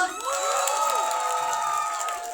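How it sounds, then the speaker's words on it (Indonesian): An audience at a gathering for a web-series cast shouts and cheers loudly, with rising and falling excited voices and some faint clapping underneath, sustained throughout. "tepuk tangan mana tim Ocha Adit, tepuk tangan tim Ocha Adit"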